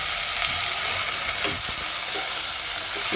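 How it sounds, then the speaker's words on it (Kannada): Potatoes and brinjal, cut into thick pieces, fry in a little oil for a Kannada-style curry, giving a steady close sizzle and hiss that runs without a break and is briefly stirred partway through. "ಈಗ ಸ್ವಲ್ಪ ಎಣ್ಣೆಲಿ ಫ್ರೈ ಆಗಲಿ. ಎಣ್ಣೆಲಿ ಫ್ರೈ ಆದಷ್ಟು ತುಂಬ ಚೆನ್ನಾಗಿ ಬರುತ್ತೆ"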